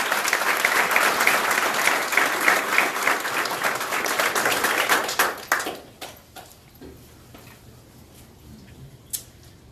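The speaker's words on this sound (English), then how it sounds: "Another round of applause for you." Audience applause at a sheriff's office memorial ceremony, dense clapping that holds for about five seconds, then thins to a few scattered claps before fading to room quiet.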